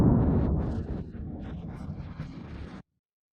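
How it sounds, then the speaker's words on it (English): A deep, rumbling blast from aerial bomb strikes in Kostyantynivka rolls in loud and booming, fading into a dull, wind-buffeted roar before cutting off abruptly. "There was just an impact from 3 aerial bombs."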